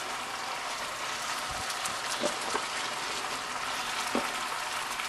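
A pulled pork sauce with about two cups of strawberries simmers in a pot, giving a steady soft sizzle and faint bubbling with a few small pops, close and even, with no voices.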